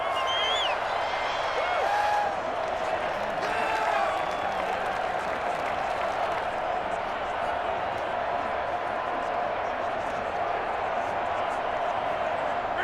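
Stadium crowd roar in Madden 21 football, a loud sustained din with scattered whistles and shouts early on, holding steady throughout.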